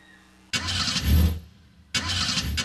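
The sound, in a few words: car engine starting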